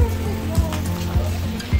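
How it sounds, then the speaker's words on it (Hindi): Rain falls steadily on a rainy day, a dense wash of drops with a low rhythmic thumping underneath, close and fairly loud with no talk. "I say it's raining"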